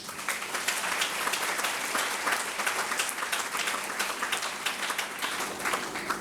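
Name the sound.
audience applause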